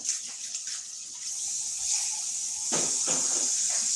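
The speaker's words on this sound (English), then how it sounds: "I'm gonna add a tiny bit of water." Water hissing and splashing as it is poured into a pot of stew on the stove, a soft sizzling stream with brief gurgling bursts near the end, no speech.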